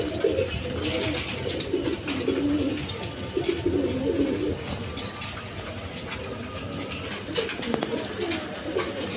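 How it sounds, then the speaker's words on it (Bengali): Racing pigeons, cream-bar racers among them, coo steadily in low, throaty rolling phrases that overlap throughout, with a busy, noisy background around the loft. "সব তেজি কবুতর"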